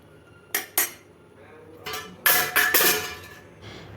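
Egg curry is ladled onto a plate of rice, a spoon striking the dish in several sharp metallic clinks, two early taps and then a busier cluster of scraping and clattering at close range.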